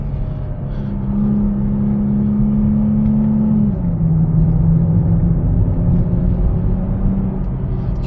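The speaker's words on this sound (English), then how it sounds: "Definitely notice a difference in the speed of shifting with the paddles" A car accelerating steadily with a low, even engine drone close by, its pitch climbing and then dropping abruptly as a paddle-shifted gear change comes through, followed by further smooth shifts under the continuous rumble.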